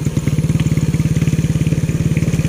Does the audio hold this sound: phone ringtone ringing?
no